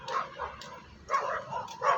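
A dog barks in short bursts, moderately near, outdoors on a residential street during a morning walk; several yips and barks with brief pauses between them.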